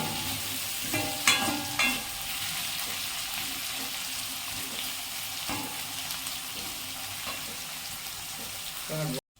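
Onions fry in a pan for mutton curry, a steady sizzle with occasional scraping and clinks as they are stirred until browning, continuous and fairly close.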